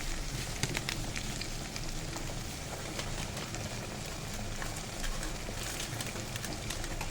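Ground turmeric, cumin and coriander sizzle and crackle steadily in hot oil in a frying pan for a pumpkin and shrimp curry, a soft, continuous hiss with small pops throughout.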